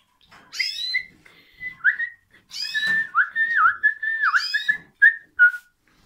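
Someone whistles a wavering, sliding tune in short phrases with pauses between, close and clear against a quiet background.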